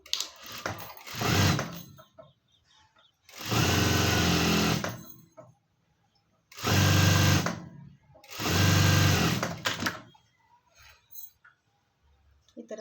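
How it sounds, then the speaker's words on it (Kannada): Sewing machine stitching along the edge of a blouse, running in about four loud bursts of steady motor whir with quiet pauses between them, close by and with no voices. "ಈ ಥರ ಬಂದಿದ್ದಾದಮೇಲೆ ಎಡ್ಜಲ್ಲಿ ಒಂದು ಸ್ಟಿಚ್ ಹಾಕ್ಕೊಳ್ಬೇಕು"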